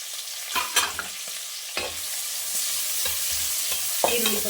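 Onion and green chili fry in a pan, sizzling steadily throughout while a utensil scrapes and stirs in several sharp clattering strokes close by.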